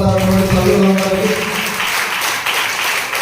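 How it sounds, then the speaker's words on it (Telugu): Church congregation applauding for mothers during a Sunday sermon, a dense burst of clapping that starts under a speaking voice and then carries on alone. "చప్పట్లు పడతారు తల్లులందరికీ"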